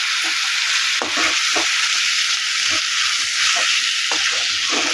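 Chicken frying in a pan for pepper chicken, a steady loud sizzle running throughout with repeated scraping knocks of a spoon stirring the pieces, close up and without talk.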